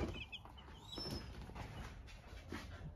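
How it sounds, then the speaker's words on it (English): About 18 chickens cluck softly and continuously at close range inside an enclosure, with occasional higher chirps from young birds over a steady background hum. "There's 18 chickens."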